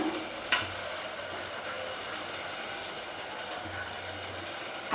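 A carrot and semolina roti frying in oil, heard as a steady, close, hissing sizzle throughout, with a couple of soft knocks from the pan or lid.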